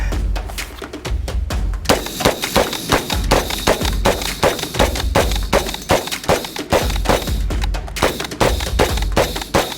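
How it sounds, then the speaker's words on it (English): A double-barrel AR-15 dumping a 60-round magazine produces loud, close, rapid strings of sharp gunshots in dense bursts with short pauses between them, and no voices. "are you ready for a 60 round mag dump?"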